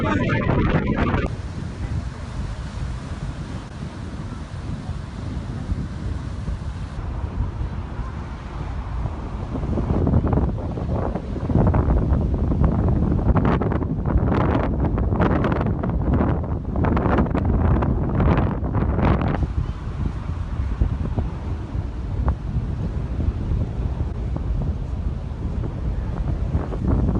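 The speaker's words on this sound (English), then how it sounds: "Going against the wind is so hard!" Strong wind roaring over the microphone during a bike ride against a headwind, a loud continuous rumble throughout with gusts swelling and fading.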